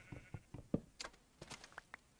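Sheep bleating in Minecraft Beta 1.7.3, a few short, faint bleats mixed with soft clicks and game noises over a quiet background, with no talking.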